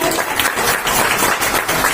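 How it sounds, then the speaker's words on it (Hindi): Audience at a Saryu Sahitya Parishad Brahman Samaj Ramayana knowledge competition gives the director loud, sustained applause, dense overlapping claps filling the hall steadily from start to finish. "डायरेक्टर साहब के लिए जोरदार ताली हो जाए"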